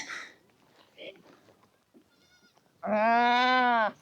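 Goats on a Himalayan shepherd family's camp, tied facing each other for milking, give one loud, long, wavering bleat near the end, after quieter bleats and shuffling noises, with no talk in the clip.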